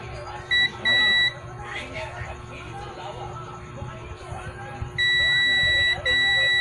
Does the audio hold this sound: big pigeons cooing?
no